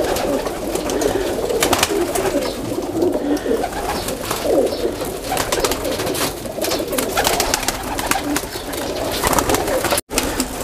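Breeder pigeons coo continuously, a dense flock of soft throaty calls close by and fairly loud, with no talk over them.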